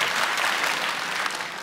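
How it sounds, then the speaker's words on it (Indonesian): Steady, dense applause from a large audience at a stand-up comedy show in a concert hall, loud and close throughout, then slightly fading at the end. "boleh tepuk tangan dulu buat kita semua"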